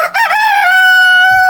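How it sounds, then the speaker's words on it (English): A rooster crows loudly and close on a farm, one long drawn-out call that rises and then holds steady before fading. "Roosters crow to tell everyone it's time to wake up."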